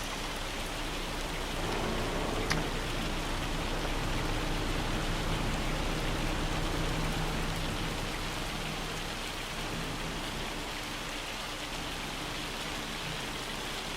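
Steady hail or heavy rain drumming down in the Farm Sim 25 farming game, a dense continuous hiss that holds at an even level for the whole stretch, with one brief sharp tick early on and no voices.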